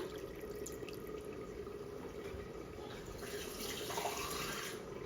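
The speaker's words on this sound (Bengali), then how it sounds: "এখন টমেটোর মধ্যে আমি জল দিলাম" Water is poured into a pot of tomatoes, a faint, steady running and splashing flow that continues evenly throughout.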